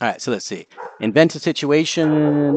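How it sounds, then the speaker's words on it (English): A goldendoodle dog barks and yips in short excited bursts, ending in a drawn-out whine, mixed closely with a person talking over it. "Sorry about my dog, she's going crazy."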